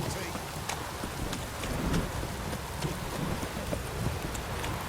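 Steady, dense rain hisses evenly throughout, with faint low rumbles beneath and occasional brief crackles, in a video game (The Witcher, with Geralt of Rivia).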